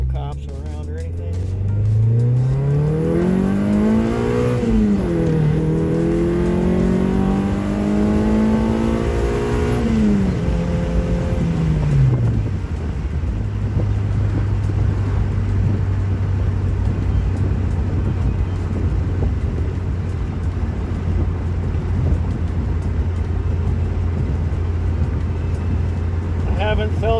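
A Honda wagon with an H22 engine accelerates while driving, its loud near engine note climbing and dipping through revs before settling into a steady cruising drone.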